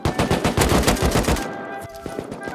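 Rapid automatic gunfire from the video game Rust, loud and close, a dense burst of shots for over a second, then a few scattered single shots with no talk.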